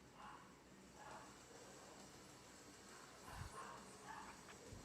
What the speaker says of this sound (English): He doesn't like that there's other dogs barking.